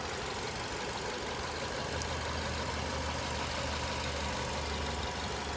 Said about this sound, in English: It looks like a little shake in the motor there